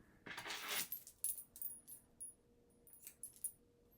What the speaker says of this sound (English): Forgive the jingle. I've got lots and lots of thread drop or scissor bobs.